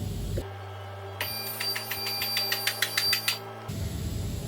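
A two-post car lift raises an Audi A4 2.0 TDI in a workshop, giving a steady motor hum with a low drone and a run of rhythmic clicks from the lift's safety latches before the motor cuts off.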